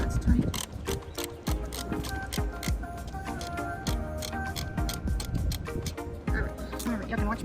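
A ratchet tightens a nut on a 2011 Chevy Impala engine during a VVT replacement, with quick repeated clicking strokes close by, mixed with talk.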